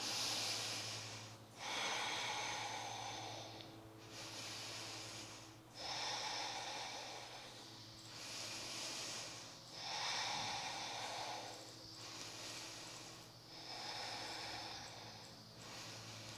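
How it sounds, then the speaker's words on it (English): Slow, steady yoga breathing held in a warrior two pose, with about five rhythmic inhale-exhale cycles each lasting roughly two seconds, close and clearly audible over a low steady hum, with no talking. "5 breaths here"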